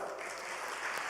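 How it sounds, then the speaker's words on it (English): Audience applause at an academic bilingualism network meeting, a steady, fairly faint wash of clapping filling the whole short stretch with no voices over it. "please give Anne-Marie a warm round of applause"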